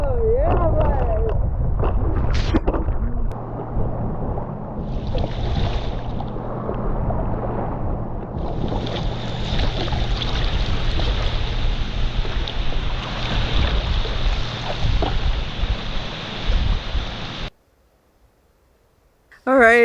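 A kayak pushes through waves, with rushing water and heavy wind noise across the microphone for most of the stretch, then a sudden drop to near quiet near the end; voices are heard at the start and close.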